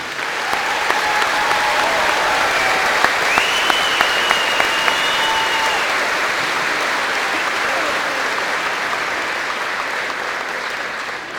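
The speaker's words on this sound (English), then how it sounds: "How about one more round of applause for the class of 2018?" Applause from a high school graduation crowd for the Class of 2018 fills the hall in a dense, sustained wash of clapping, with faint cheers and whistles running over it and tapering off near the end.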